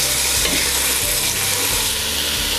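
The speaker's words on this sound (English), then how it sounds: "Yep, oil was definitely hot. Okay, we're just going to saute this for about 2 or 3 minutes." Onions sauteing in hot oil in a pan for a honey-garlic sausage, pepper and potato stew, a dense continuous sizzle with stirring, close and loud throughout.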